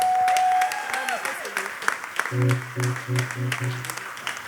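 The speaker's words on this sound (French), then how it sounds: "Est-ce qu'on peut l'accompagner par des acclamations?" A congregation at a French-speaking church service claps and cheers, the applause fading as sustained keyboard or organ chords and voices rise over it, fairly close and loud.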